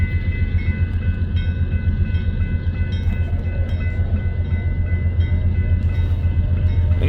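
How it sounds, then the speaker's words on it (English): A westbound Union Pacific freight train rolls steadily past close by, a loud continuous low rumble of wheels and cars that stays constant throughout and has no speech over it. "This train is heading west."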